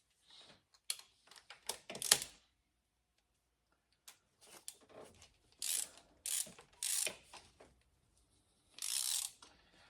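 A ratchet tightens a spark plug on a 1992 Toyota Camry, giving quiet, close bursts of rapid clicking, with short pauses between sets of strokes.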